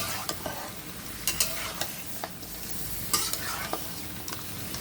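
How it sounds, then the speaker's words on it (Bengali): Duck meat frying in a pan, a steady close sizzle broken by repeated clicks and scrapes of stirring, with no talk. "মাংসটা কিছুক্ষণ আমি ভেজে নেবো"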